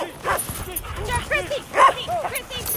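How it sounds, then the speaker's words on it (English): Sled dogs bark and yip excitedly at a Willow 300 race checkpoint at Susitna Landing in the 2020 running. Several sharp, close barks and yelps come in bursts, with voices mixed in. "These dogs have plenty of energy, so Nic still uses a snow hook"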